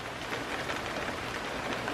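Steady rain falling outdoors, a dense even hiss of drops spread across the whole moment with no voices, fairly soft and constant throughout.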